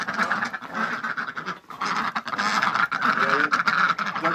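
Ducks quack in a steady, overlapping chorus at a small farm, fairly close and moderately loud, with no talking.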